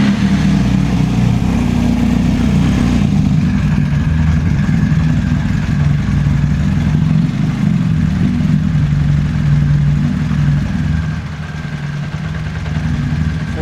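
A motorcycle engine idles steadily and loudly throughout, a low continuous rumble that drops slightly in level near the end.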